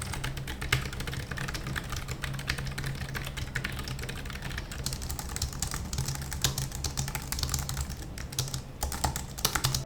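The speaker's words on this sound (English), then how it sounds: "I'll let you listen to the typing sound of the Keychron B1 Pro as well as the MX Keys Mini" Rapid, continuous typing on Keychron B1 Pro and Logitech MX Keys Mini keyboards, close and clear, with dense irregular key clicks and occasional louder strokes, alone without voices.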